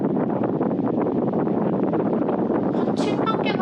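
Air from an electric air circulator fan set to a higher speed rushes steadily and loudly close to the microphone, like a constant gust, with a few brief higher squeaks near the end.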